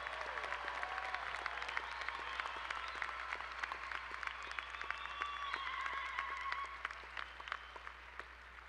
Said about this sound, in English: one more round of applause for all of our distinguished graduates and their families who made it possible